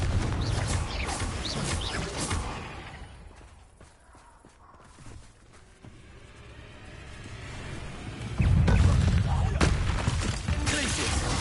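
Confringo fire spells burst repeatedly during Hogwarts Legacy combat, loud crackling blasts and whooshes that fade mid-way and then surge back strongly near the end.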